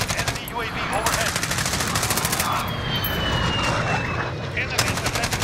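Rapid automatic fire from an enemy sentry gun in Call of Duty Modern Warfare clatters in fast, loud bursts throughout, pausing briefly near the middle and end, with a voice speaking faintly underneath.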